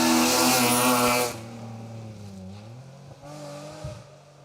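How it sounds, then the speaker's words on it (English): A BMW Compact rally car drives hard on an asphalt rally stage, its engine revving loudly at first, then dropping to a lower drone as it shifts and pulls away, with tyre noise. "Pushing hard in the BMW Compact"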